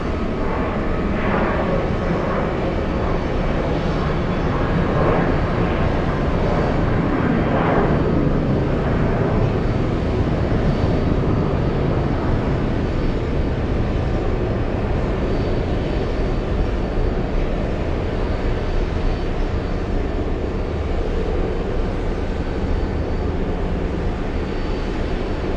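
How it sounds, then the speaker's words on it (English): A CRJ-900 jet pushing back from a gate at JFK airport gives a steady, loud broadband engine roar with a low rumble that holds evenly throughout, with no voices over it. "We have the CRJ-9 pushing back from the Alpha gates."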